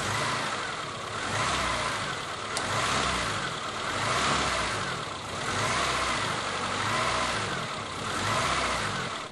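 A ZAZ Tavria car engine idles with a floating idle speed, a steady close mechanical drone that swells and dips in slow, regular waves with no talk.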